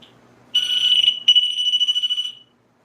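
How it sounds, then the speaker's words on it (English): A piercing, steady electronic fire alarm tone starts abruptly, breaks for a moment, then beeps in a fast pulsing pattern for about two seconds before cutting off into silence during a ghost hunt. "Fire alarm."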